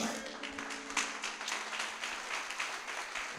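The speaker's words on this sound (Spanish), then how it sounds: "Diga amén y denle un aplauso al Señor." A church congregation applauds together during a service, a dense, steady patter of many hands clapping that continues without pause at moderate volume.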